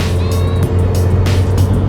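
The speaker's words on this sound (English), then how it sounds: "So we're driving on I-5 towards Seattle." Steady road rumble and tire noise inside a car cruising on the I-5 highway toward Seattle, loud and continuous with brief whooshes of passing traffic, no talking.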